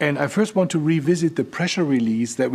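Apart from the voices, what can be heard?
No distinct noise like a dog, phone or traffic.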